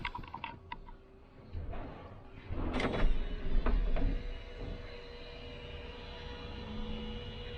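The small sunroof hatch of a Renault Trucks T 480 cab sliding open, a motorized whir and rattle rising to a brief louder rush, then settling into a steady cab hum.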